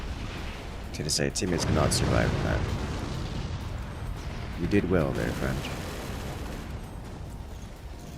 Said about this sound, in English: Oh, that's so many howitzers.